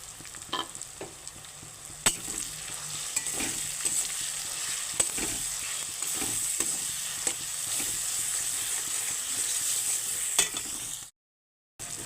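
Chopped tomato with turmeric, chili, coriander and cumin powders fries in a pan for a chicken korma. A steady, bright sizzle runs throughout, with frequent sharp scrapes of stirring, and the sound cuts out abruptly near the end.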